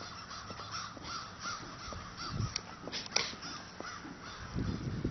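Several crows caw repeatedly in a park, sharp calls at moderate distance in an irregular rhythm over steady outdoor ambience.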